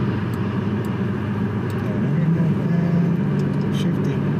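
An Audi S8 cruising on an unrestricted German autobahn, a steady low engine drone and road and wind roar heard from inside the cabin, continuous and moderately loud, with a person talking over it.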